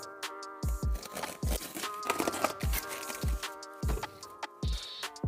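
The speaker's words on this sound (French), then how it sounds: "le cylindre, je vais déjà te le déballer et te le montrer" A parcel holding a Bidalot scooter cylinder for a Derbi 80 is unwrapped up close, with repeated crinkling and rustling of packaging and soft handling thumps in uneven bursts, with no one talking.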